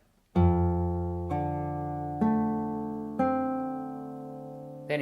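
A fingerstyle acoustic guitar repeats a phrase, starting on the 6th string and moving through the open 4th, 3rd and 2nd strings. Four clear plucked notes sustain and fade one after another, close and alone.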